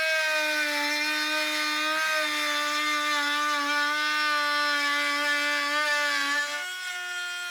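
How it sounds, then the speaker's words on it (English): A Dremel rotary tool fitted with a number 612 bit routing the edges of wooden letters, a steady high-pitched whine that holds for several seconds, then drops in pitch near the end. "Now you're ready to route the edges."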